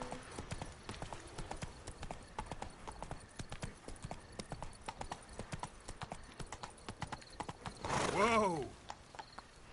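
Horse hooves clip-clop in a steady, fairly quick rhythm in a video game, joined near the end by a loud neigh, with faint background sound underneath.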